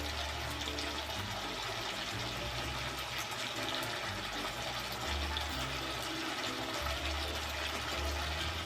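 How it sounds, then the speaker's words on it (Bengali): Water from rinsing a mixer jar poured into a pan of frying spices for a bhola fish kalia; a steady, close rush of liquid runs continuously with a faint sizzle beneath. "সামান্য একটুখানি মিক্সি ধোয়া জল দেবো সামান্য, যাতে মশলাটা পুড়ে না যায়।"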